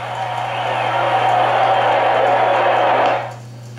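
The arena crowd roars at the Joe Louis–Jersey Joe Walcott boxing match in an old radio broadcast recording, a sustained muffled roar with cheering over a steady low hum, cutting off sharply near the end.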